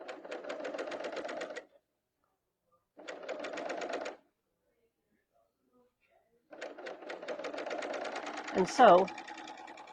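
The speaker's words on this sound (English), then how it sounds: "with a serger on a knit. So again, it's a 4-thread overlock." A serger running a 4-thread overlock stitch on knit fabric, with three bursts of rapid, even mechanical whirring separated by pauses; a voice speaks briefly near the end.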